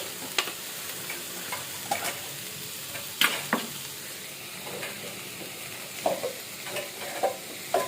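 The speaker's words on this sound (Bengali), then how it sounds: "সব সবজিগুলো ভালো করে ভেজে নিতে হবে।" Mixed vegetables seasoned with turmeric and salt fry in a pan with a soft steady sizzle, broken by occasional sharp scrapes and taps of a spatula as they are stirred, with no voices.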